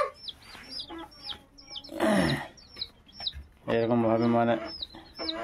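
Chickens on a poultry farm, repeated clucks and short squawks scattered through, with a louder raised call near the end, while someone talks in Bengali.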